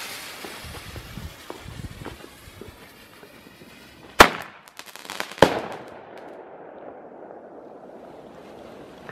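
Thunder Kong Powerpack firecrackers go off outdoors with two sharp, loud bangs about a second apart, each followed by a brief crackling decay, over a steady windy, water-like background.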